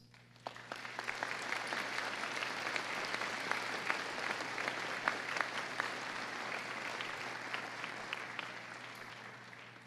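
A graduation audience applauds steadily for about ten seconds, a broad wash of many hands with a few sharper individual claps standing out, swelling slightly then holding even.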